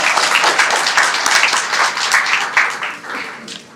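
A crowd gives sustained applause for a chairman at a Starbucks store opening at Amazonia Mall in Providence, dense clapping filling the room steadily before thinning slightly near the end.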